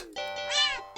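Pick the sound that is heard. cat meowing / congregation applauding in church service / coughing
cat meowing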